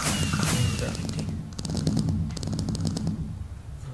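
Fireworks bursting in the video game Minecraft, a rapid series of sharp crackling pops and bangs layered over a steady low rumble, moderately loud throughout.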